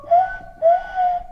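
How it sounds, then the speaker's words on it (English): A person whistling a melody in clear, pure tones, three short phrases with small pitch glides, close and alone. "The first thing I did was I doubled the melody with just me whistling"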